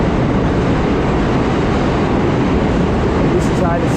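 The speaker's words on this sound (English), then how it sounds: "And this is how the subway be like." Loud, steady rumble of a New York City subway train at the 42nd Street–Times Square station, a dense roar with screeching overtones filling the platform continuously, with voices faintly mixed in.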